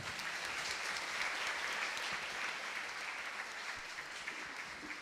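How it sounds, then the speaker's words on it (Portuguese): A church congregation applauds after the Gospel reading at Mass, steady dense clapping that is fairly faint and even throughout, with no speech over it. "Vamos aplaudir"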